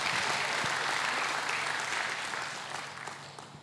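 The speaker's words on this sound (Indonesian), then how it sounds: "Berikan tepuk tangan buat Tuhan Yesus." A church congregation claps for Jesus in a steady, dense burst of applause, a large crowd filling the room and slowly thinning out as it fades.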